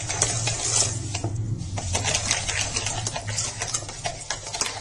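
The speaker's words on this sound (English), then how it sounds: "We're going to go ahead and mix that together." A utensil mixes pecan tassie filling of sugar, vanilla and a dash of salt in a bowl, giving a steady run of close, brisk scraping and tapping strokes with no one talking.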